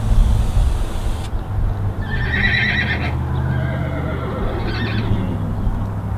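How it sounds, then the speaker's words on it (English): A horse whinnies twice, a rising high-pitched call and then a shorter one, over steady low background rumble in a workshop where a wooden sign is being made; no talking. "Horse."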